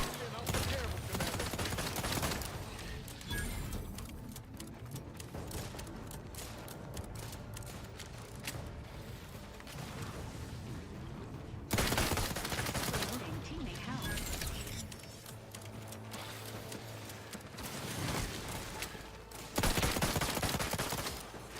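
Gunfire from the player's broken gun in a video game: dense, continuous bursts of shots crackle through most of the stretch, with louder volleys near the middle and end, all under busy game sound and some talk.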